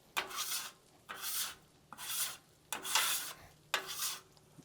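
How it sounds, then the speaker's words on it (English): A metal bench scraper drags across a flat-top griddle, clearing grease before smashed burgers go on; five harsh rasping strokes, evenly spaced, each a loud scrape with a quiet gap between, close up and alone. "I'm going to use my bench scraper to remove all the grease from the griddle"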